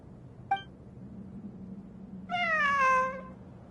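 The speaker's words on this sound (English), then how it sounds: "I'm not hearing things. It really is a cat." A cat meows in the Genshin Impact video game: a brief click, then a single clear, drawn-out meow of moderate loudness later on, heard alone over a low steady background hum.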